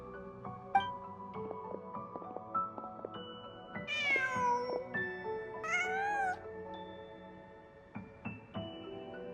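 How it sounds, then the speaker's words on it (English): A cat meows in Genshin Impact, with high, rising-and-falling mewing calls around the middle over steady game music and ambience, the cries close and clear. "Just a cat."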